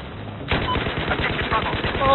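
A light machine gun fires in Battlefield 4, a rapid string of close, punchy shots that starts abruptly after half a second of quiet and carries on steadily to the end.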